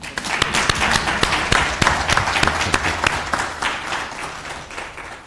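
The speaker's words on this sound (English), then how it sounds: "all I needed you to do was just to give a resounding round of applause" A live audience claps in a loud, sustained round of applause at a university language policy launch, dense hand claps filling the whole stretch at a steady level.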